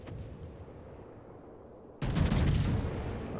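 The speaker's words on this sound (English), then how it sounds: "I fire another shot while he takes our Seattle at B." A single heavy naval gun salvo booms from a battleship in the World of Warships game, a sudden loud blast that holds as a rumbling roar over low background drone.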